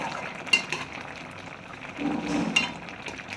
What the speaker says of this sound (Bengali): এর মধ্যে আমি নেড়ে চেড়ে নেবো।